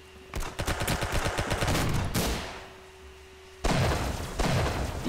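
A Tommy gun in Roblox Arsenal lets loose in two loud, rapid automatic bursts, the first running about two seconds, then a pause before a second burst, with no talking.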